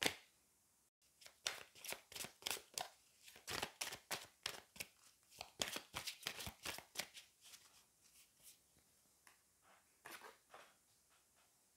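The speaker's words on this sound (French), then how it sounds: "je vais prendre 3 autres cartes voilà, du petit Lenormand et après on prendra une carte oracle" Small Lenormand oracle cards shuffled and drawn by hand: a close series of quick papery riffles and snaps that thin out toward the end, quiet and with no voices.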